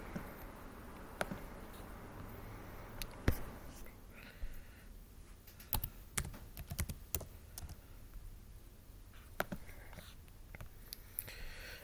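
Typing on a computer keyboard: quiet, irregular clicks and taps come in small clusters and scattered single keystrokes over a faint background hiss.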